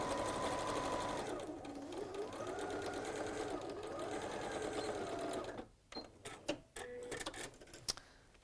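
A sewing machine runs steadily, stitching a small quarter-inch seam in fabric, its whirring motor continuous and close for about five seconds before stopping, followed by a few scattered clicks and handling sounds.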